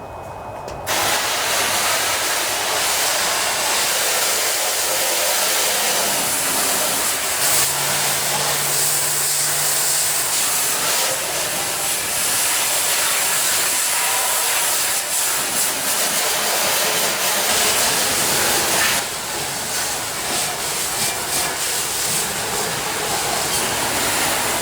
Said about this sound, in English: Spray a little soap on here,